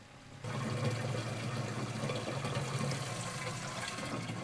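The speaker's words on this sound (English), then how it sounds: "태양광으로 충전한 배터리와 펌프, 여과기를 사용하면 아주 깨끗한 물을 얻을 수 있습니다." Steady rush of clean water pumped through a filter by a solar-charged battery pump at a gravel-and-clay spring well in a snowy forest, starting abruptly and running continuously at close range with no talk.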